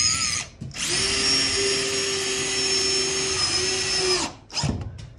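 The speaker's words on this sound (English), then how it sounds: "Scary screws, man, to put 2-inch screws into a trailer like this" A power drill drives 2-inch screws through trim and plywood into an enclosed trailer wall, with one long steady whine, a brief pitch dip near the end, then a short final burst, loud and close.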